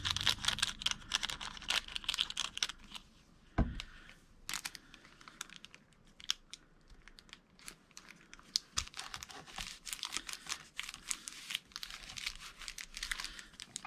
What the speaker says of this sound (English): don't you just love the crinkly sound of glassine?